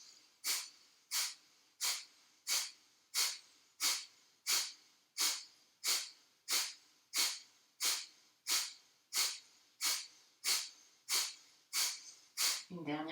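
Kapalabhati yoga breathing: about twenty rapid, forceful nasal exhalations in a steady, evenly spaced rhythm, close and clear in a quiet room, ending with a voice speaking.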